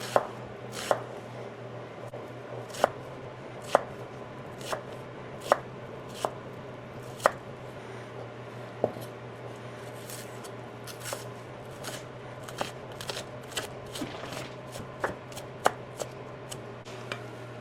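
A knife chops a red onion into small dice on a cutting board, giving a long run of sharp, irregular taps that keep going steadily over a low constant hum.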